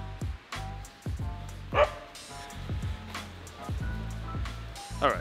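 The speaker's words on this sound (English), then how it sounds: "getting attacked by stray dogs" Stray dogs near a waterfall trail in Siem Reap, Cambodia bark and yip in sharp bursts across several seconds, fairly close and loud, with whimpering tones in between and a brief human voice in the gaps.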